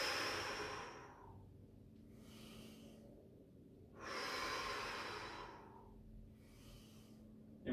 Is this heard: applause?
no